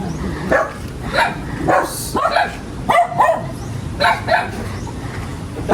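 A dog barks repeatedly, sharp yappy barks in irregular bursts, close by and loud, over a noisy outdoor background.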